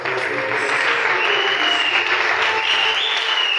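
A church congregation applauds at a Sunday service: loud, steady clapping from many hands fills the space without pause for a few seconds.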